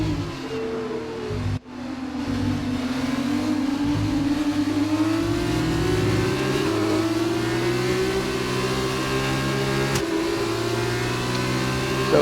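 An F2 race car engine in the F1 2019 video game at the Barcelona circuit in Spain, revving high and steady at close range with rising pitch as it accelerates, briefly cut once early on.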